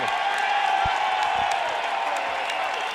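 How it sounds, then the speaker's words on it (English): A college basketball arena crowd at an NCAA game between Hampton and SMU keeps up a dense, continuous wash of applause and cheering, with scattered whoops over steady clapping. "Another round of applause for the senior point guard, Jonathan Wilfong"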